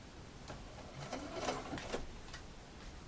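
An embroidery machine sewing bias binding onto a curved seam, a faint steady mechanical whir with soft rhythmic stitching ticks, heard close and quiet with no talking.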